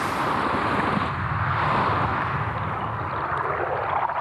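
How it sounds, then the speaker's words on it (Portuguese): North Sea waves rolling with a deep, low rumble, a continuous broad wash of surf mixed with wind buffeting the microphone, swelling and easing slightly without pause. "essa frequência baixa e profunda do mar, o som principalmente do Mar do Norte, é como uma assinatura"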